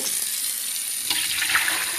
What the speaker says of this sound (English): See, I'm going to fill this empty vessel up, right?